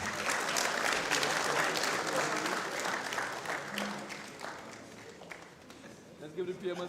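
An audience at the closing day of a Caribbean tech forum applauds and cheers, the clapping loud at first and then thinning out, with voices talking over it toward the end.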